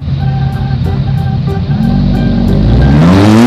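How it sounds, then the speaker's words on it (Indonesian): A Ferrari sports car engine revs loudly and steadily up close, its pitch climbing toward the end as it accelerates, with no talk over it. "Wah, ada mobil Ferrari teman."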